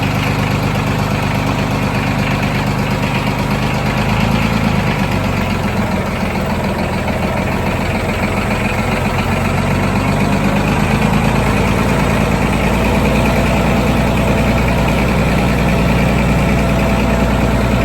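A tractor engine runs steadily at idle outdoors by a mountain garden, a loud continuous low rumble close by with a slight shift in tone partway through and no talking.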